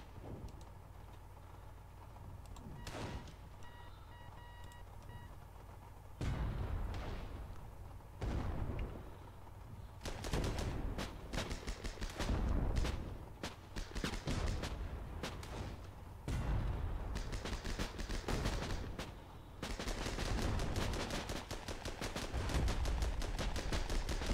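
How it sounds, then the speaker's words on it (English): Mortar and gunfire in the tank battle video game Armoured Battle Crew: repeated sharp blasts and crackling bursts, some distant and some loud, arriving in clusters separated by brief lulls over a low rumble. "some mortars just obliterate them"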